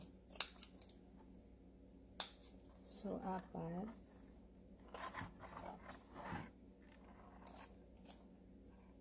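Scissors snip through ribbon in a few short, crisp cuts spread across the clip, close to the mic, while someone talks between them.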